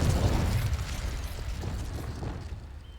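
A Confringo explosion spell in Hogwarts Legacy lands as a dull, rumbling blast that bursts loudly at the start, then fades into a crackling, low decay over about three seconds, with no talking.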